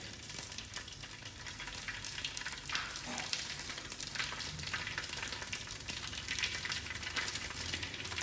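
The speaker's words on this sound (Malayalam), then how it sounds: "വെളിച്ചെണ്ണ ചൂടായപ്പം കടുക് ഉലുവ നല്ല ജീരകം ഈ മൂന്ന് ഐറ്റംസ് ഇട്ടുങ്ങാണ്ട് പൊട്ടിച്ചുക" Dense, continuous crackling and spitting of mustard seeds, fenugreek and cumin spluttering in hot coconut oil in a clay pot, close and fairly loud throughout.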